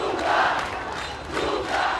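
A crowd of hundreds of demonstrators protesting World Cup spending near the Maracana stadium in Rio rises and falls in a loud, blended roar of voices, with no single speaker standing out.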